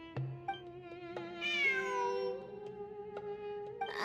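A cat in a video game gives a clear, drawn-out meow with a rising then falling pitch, set over a sustained low musical drone with soft plucked notes around it.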